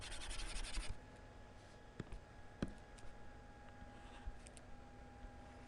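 Pen on paper sketching a triangle, with a few soft scratchy strokes and light taps, close and quiet, no talking.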